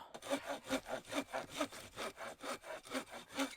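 A hand saw rasps steadily through firewood in quick back-and-forth strokes outdoors in snow at about -10°C, a regular rhythm of about three strokes per second, close and clear.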